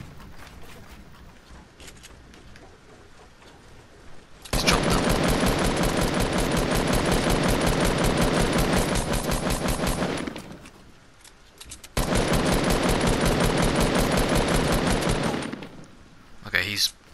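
Rapid dual-wield pistol fire in Fortnite comes in two long sustained bursts of dense, loud shots, separated by a brief lull, with quieter game sounds before and between.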